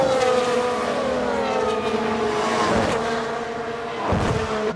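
Formula 1 cars in the F1 Manager 22 racing game, 1995 season, roar past in a sustained high-pitched engine drone with shifting harmonic whines as one car overtakes another, loud and close, no voices.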